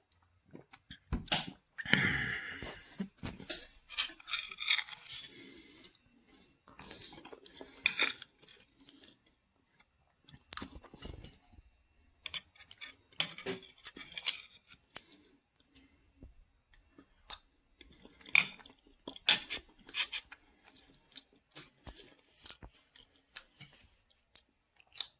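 Someone eating a Thanksgiving meal with cutlery: scattered light clicks and scrapes of utensils on a plate, close and fairly quiet, coming in irregular bursts with short pauses between them.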